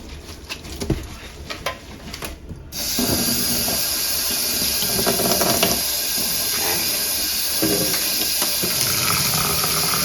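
Tap water running over hand-dyed twisted yarn as it is rinsed in a sink, a steady close splashing stream that starts after a few seconds of small clatters and continues evenly.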